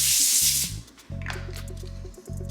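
Cooking oil sprayed in a light coat onto a foil-lined baking sheet, a steady close hiss with short bursts, alone and without talk.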